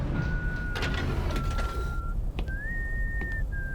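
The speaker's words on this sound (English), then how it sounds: "Someone's whistling." Someone whistles in the Consortium game, a thin steady tone held for a couple of seconds, then a higher sliding note after a short break, heard over a constant loud mechanical hum.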